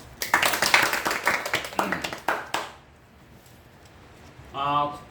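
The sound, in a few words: welcoming applause for newcomers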